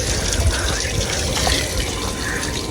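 Water pours steadily on a dairy farm to give buffaloes a drink and a bath in the summer heat, a loud, close, continuous gushing splash that holds throughout without a break and with no talking.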